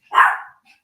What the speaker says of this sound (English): I have 3 little small dogs.